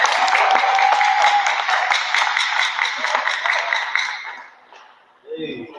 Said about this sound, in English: Big round of applause for Ray.